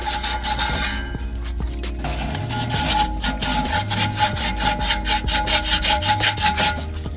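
Rusty blower motor shaft from a Goodman heat pump being rubbed with sandpaper, a steady rasping scrape repeated in quick back-and-forth strokes, close and fairly loud with no talking.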